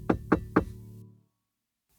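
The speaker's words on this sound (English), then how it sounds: "Thumbkin knocked on the door." Three sharp knocks on a door in quick even succession, close and clear, followed by about a second of silence.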